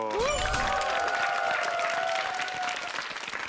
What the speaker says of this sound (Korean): 박수를 먼저 주십시오